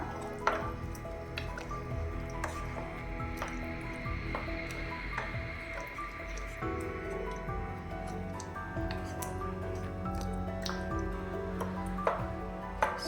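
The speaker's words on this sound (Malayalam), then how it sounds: "എല്ലാം കൂടെ നല്ലപോലെ ഒന്ന് മിക്സ് ചെയ്യാം" Chicken curry is stirred in a pot after hot water has been added, giving soft wet squelches and drips that carry on steadily at a moderate, close-up level without talk.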